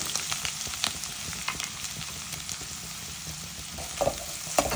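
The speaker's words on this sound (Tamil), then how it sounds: "இப்போ நம்ம வந்து கட் பண்ணி வச்சுருக்கிற பெரிய வெங்காயம் பச்சை மிளகு அதை வந்து போட்டுக்கலாம்" Sliced big onions and green chilies fry in hot oil, giving a soft, steady sizzle with occasional sharper pops and scraping stirs, fairly quiet and heard alone without any talking.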